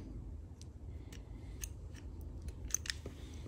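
Small scissors snip braided fishing line in a series of crisp, close clicks and cuts spread over a few seconds, with no talking.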